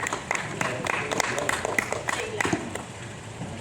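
Audience applause at a panel discussion on feminist cities, fairly close and distinct individual claps in a moderate patter, with some talking mixed in.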